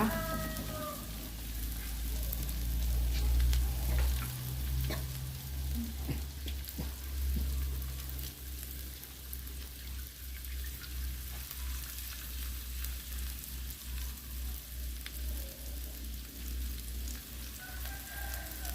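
Pounded garlic sizzles steadily in a hot pan, close by, with occasional scraping stirs over a low hum.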